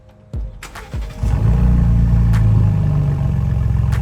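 A first-edition Ford Bronco fitted with a new exhaust cranks a few times, then catches and settles into a loud, steady, deep idle rumble close by.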